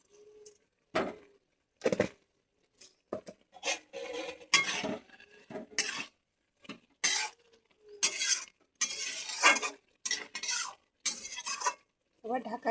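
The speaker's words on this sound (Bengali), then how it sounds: "ভালো করে নাড়ে নিতে হবে" Food being stirred in a pan with a metal spoon, irregular clattering scrapes and knocks in short bursts separated by quiet gaps, close and fairly loud.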